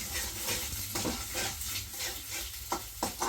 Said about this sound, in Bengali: আমি হলো রাত্রেবেলা নুডলস রান্না করে দিতেছি